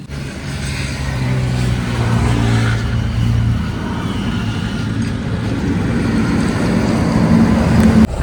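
A Legend truck approaches along a roadside stop by a tiffin centre, its heavy engine rumble steady and loud throughout, swelling slightly near the end as it draws close.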